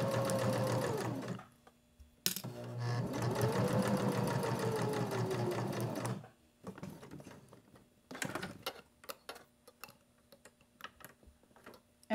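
A sewing machine hems a fabric soap holder near clipped elastic, running in two long, loud, close whirring stretches with a brief stop between, then giving way to scattered small clicks and handling taps.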